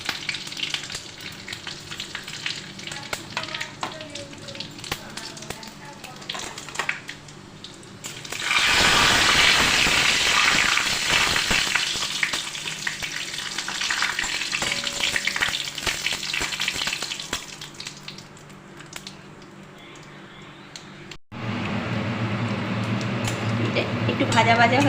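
Dried red chillies, whole cinnamon and panch phoron sputter in hot oil, a loud steady sizzle with scraping and water noise, swelling to a fierce hiss midway and cutting sharply near the end.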